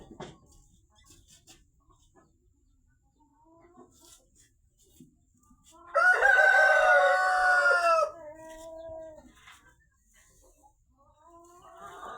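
A rooster, one of a pair kept with hens, lets out a single loud, drawn-out crow midway through an otherwise quiet stretch with faint background sounds.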